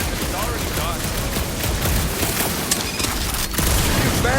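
Gunfire in the video game Guardians of the Galaxy, a dense, loud barrage of shots and booms layered with game effects and chatter, continuous through the scene with a brief dip before resuming.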